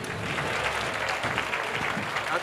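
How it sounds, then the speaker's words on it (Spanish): Applause for a romancero group at the Bornos carnival proclamation in 2018: a short stretch of dense, steady clapping from a nearby crowd. "aplauso para el romancero de profesión oscuro"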